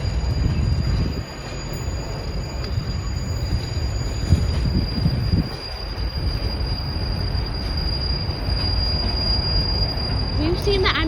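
A CPKC coal train rolls past in Mission, British Columbia, with a steady loud rumble of railcars and a thin high wheel squeal running throughout, close by.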